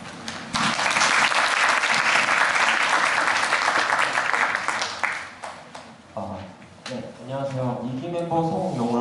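Audience at a big data conference breaks into dense applause for several seconds, which fades as a presenter starts speaking over the last claps.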